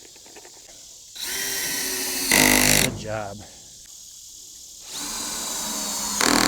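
A handheld power drill whirs in several short bursts, spinning up loudly then stopping, with quiet gaps between runs and brief voices talking in the pauses.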